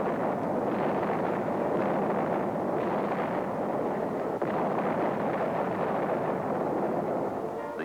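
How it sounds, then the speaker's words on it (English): Artillery fire rumbles in wartime combat as a continuous, muffled roar broken by dull, heavy booms, heard at a distance through wind-like noise and with no speech. "the enemy was kept off balance with our artillery fire"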